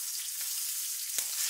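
Green chillies and cumin seeds sizzling in hot oil in a pan, a steady close hiss of frying with a couple of soft pops.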